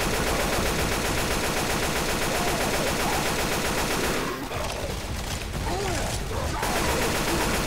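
Continuous automatic assault rifle fire in Left 4 Dead 2, on the Dark Carnival finale at Expert difficulty, loud and dense throughout with a brief thinning midway amid other game effects.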